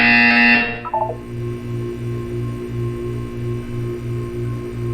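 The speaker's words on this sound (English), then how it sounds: "You will hear a buzzer." A short, loud electronic buzzer tone from the game Portal 2 sounds at the start, then stops, leaving a low rhythmic pulsing hum that repeats steadily underneath.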